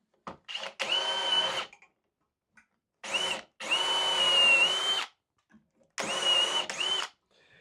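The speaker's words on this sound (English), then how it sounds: "and now it's just a lot of simple drilling." A power drill whirs into wood drilling dowel holes in three separate bursts of a second or two each, close and loud, with quiet gaps between.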